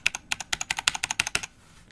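Fast typing on a computer keyboard, about fifteen crisp, close clicks in an even run that stops abruptly, leaving quiet room tone.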